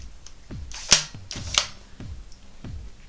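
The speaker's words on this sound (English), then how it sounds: "then wind up the shutter again" A Speed Graphic press camera with a Graphmatic film holder clicks as its shutter is wound and fired. Two sharp snaps stand out among softer mechanical ticks, close and clear, with no talk.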